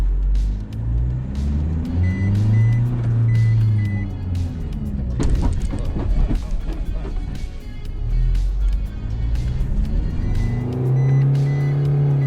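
An Isuzu MU-X 4x4 SUV drives and accelerates in manual tiptronic mode, its engine note rising and falling through gear changes, loud and close, with a brief rougher burst midway and a faint chime ticking in the cabin.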